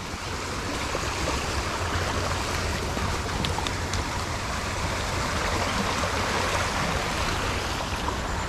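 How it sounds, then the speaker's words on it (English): Creek swollen with spring runoff from a ground spring, rushing water making a continuous dense roar, close and steady throughout with no voices. "a lot of water moving"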